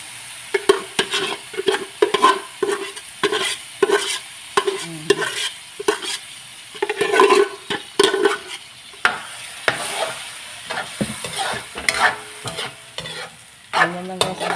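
Mung beans fry and sizzle in a pan while a utensil scrapes and stirs them in quick repeated strokes, close and moderately loud, with no talking.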